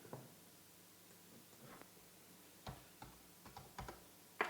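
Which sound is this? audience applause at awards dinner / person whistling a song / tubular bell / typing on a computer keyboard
typing on a computer keyboard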